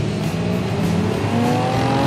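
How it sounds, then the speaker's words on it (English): A 403-horsepower Cadillac Escalade V8 pulls hard under acceleration, a loud, steady engine roar that builds continuously with no voices over it. "It combines incredible acceleration with the capability and luxury of, well, an Escalade."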